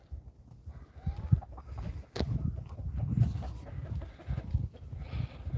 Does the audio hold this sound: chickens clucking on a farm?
yes